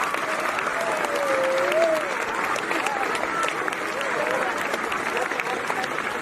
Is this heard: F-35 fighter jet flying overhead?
no